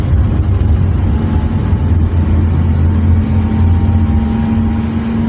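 A motor vehicle engine drones loudly and steadily while driving along a damaged road, a sustained close rumble with a faint rise as the throttle is gently opened, no voices.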